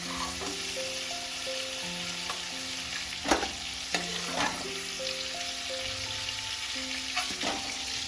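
Prawns lightly frying in oil in a pan, a steady crackling sizzle with a few spatula scrapes, while faint tonal music plays underneath.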